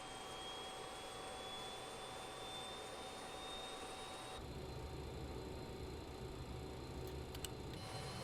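BAE 146 jet engines spool up in Microsoft Flight Simulator: a continuous turbine roar with a thin whine climbing slowly in pitch, and a heavier low rumble that kicks in partway through. No one speaks.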